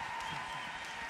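Applause for the Lord during a church service: a short, steady burst of clapping from a congregation, somewhat muted, with faint voices mixed in.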